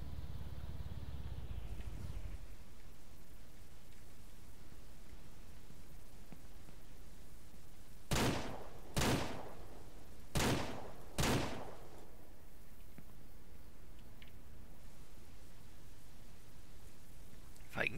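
Four sharp, loud gunshots in Ranch Simulator while hunting bears, spaced over a few seconds and set against an otherwise quiet, hissing background.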